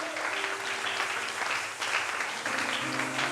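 A church congregation applauds with steady, dense clapping that fills the whole stretch and swells slightly twice. No voices rise above the applause.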